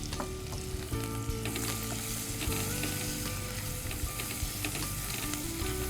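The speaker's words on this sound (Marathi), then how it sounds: "आता कांदा परतून घ्यायचे पहिल्यांदा कांदा घालायचा हा आणि तो परतवून घ्यायचा" Onion sizzles steadily in a hot pan while being stirred, a close, continuous frying crackle with occasional scrape and clatter of the spoon, and no talking.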